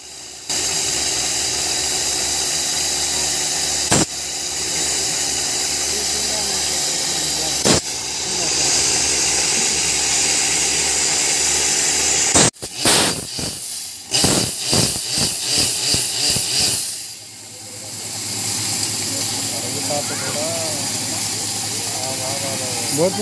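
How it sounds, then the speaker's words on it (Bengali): A borewell drilling rig bores into the ground through a pipe, with a loud, continuous roaring engine and hiss, interrupted by sharp knocks and a choppy burst of pulses before the drone resumes. "দেখো কীভাবে বোরিং আস্তে আস্তে পাইপে ঘুরে ভিতরে যাচ্ছে"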